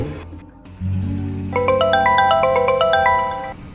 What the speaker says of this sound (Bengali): এমন সময় একটি ফোন এলো ছেলেটির ফোন